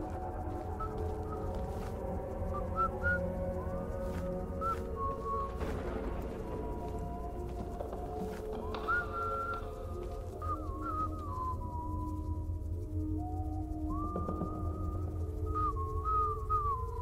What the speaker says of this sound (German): Hör zu, das Pfeifen jetzt.